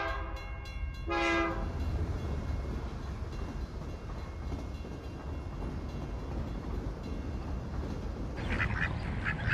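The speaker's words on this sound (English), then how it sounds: "That's a mallard." Mallard ducks, green-headed drakes and brown hens, give a short burst of harsh quacking at the start and again near the end, against loud, continuous outdoor rumble.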